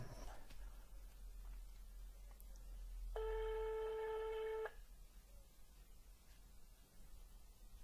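Telephone ringback tone on an outgoing call that goes unanswered: one steady burst of stacked harmonic tones lasting about a second and a half, over a low hum and faint room noise.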